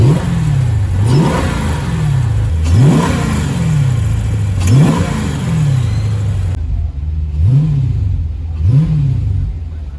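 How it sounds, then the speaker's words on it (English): Dodge Challenger Scat Pack V8 engine revved repeatedly from idle, five sharp throttle blips that rise and fall in a steady rhythm over a loud, close, rumbling idle. "when you rev it, you can see the air intake shake within the hood"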